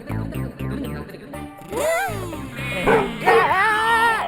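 Someone mimics a dog with a run of rhythmic barks, then drawn-out howling and whimpering yelps, loud and close.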